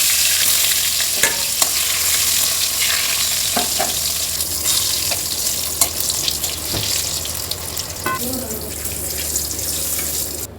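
Pointed gourd (potol) slices frying in hot oil in a village-style home kitchen, producing a loud, steady sizzle throughout. Occasional spatula scrapes and taps cut through as the pieces are moved around the pan.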